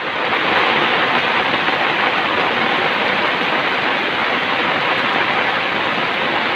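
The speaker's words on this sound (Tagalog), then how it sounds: "Patuloy pa rin yung ulan, ano?" Heavy rain pouring down during a storm, a dense, constant roar of falling water, loud and unbroken with no voices.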